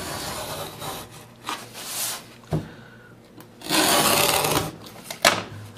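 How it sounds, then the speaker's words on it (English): Razor knife trimming the edges of a wood veneer sheet: dry scraping and rubbing strokes in bursts, close and moderately loud, with short sharp ticks between them and no speech. "They trim with a razor knife real nice and easy."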